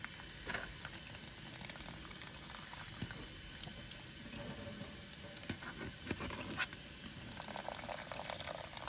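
Water poured steadily onto potting soil to wet it before planting French marigolds, a soft continuous splashing and trickling patter throughout, fairly quiet and close.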